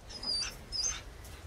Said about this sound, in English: Oh, that's the wolf. He's back.